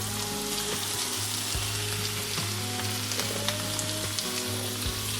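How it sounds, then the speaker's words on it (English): A blackbuck heart fries with browned onions in a pan, under a continuous close sizzle broken by occasional soft knocks from stirring. "I'm gonna take this heart, lay it in here."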